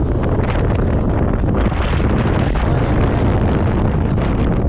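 Strong wind at the seashore in stormy weather buffets the microphone with a loud, steady roaring rumble, continuous and unbroken throughout, with no voices.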